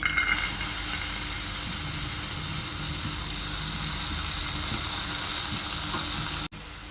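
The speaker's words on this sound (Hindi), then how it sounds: "पैन में मैंने 1 चम्मच ऑयल डाला है। अब इसमें मैं शिमला मिर्च, प्याज और गाजर ऐड कर दूंगी।" Capsicum, onion and carrot hit hot oil in a pan, giving a loud, bright, steady sizzling hiss that holds for several seconds before cutting off abruptly near the end.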